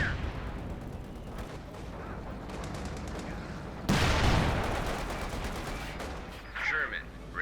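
Battle gunfire from the Company of Heroes 2 real-time strategy game, a dense clatter of rifle and machine-gun bursts that swells sharply midway, with a game voice line over the mix.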